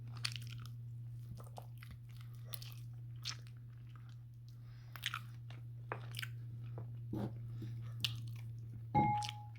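Air-fried chicken drumsticks being bitten and chewed right up close, with repeated crisp crunches and wet chewing bursts coming at an irregular pace over a steady low hum.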